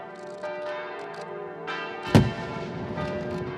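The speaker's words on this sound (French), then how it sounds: "Au son des cloches et des canons, Monseigneur Barbarin bénit Lyon" A church bell in Lyon strikes once, loud and near, against a steady busy background of sustained ringing tones.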